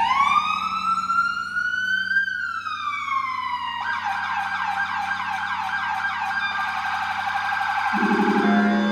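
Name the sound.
emergency vehicle siren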